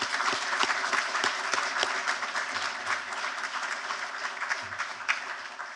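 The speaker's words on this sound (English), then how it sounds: "Could we get a round of applause for all our directors and administrators?" Audience applause at a school retirement ceremony honoring directors and administrators, a steady wash of many hands clapping with sharp individual claps standing out throughout.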